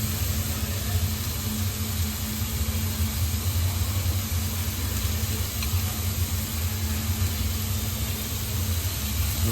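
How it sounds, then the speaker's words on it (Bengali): Garlic paste goes into onions frying in a pan for a chicken curry, producing a continuous close sizzle with a low rumbling undertone that holds level the whole time. "এর মধ্যে রসুন বাটা দিয়ে দেবো,"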